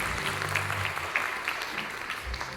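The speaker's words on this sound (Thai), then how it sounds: "ขอเสียงปรบมือต้อนรับ" Audience applause welcoming a teacher at the Yamaha Thailand Music Festival 2024 violin competition, a steady wash of many hands clapping from a crowd in a hall, continuous and fairly loud for a few seconds.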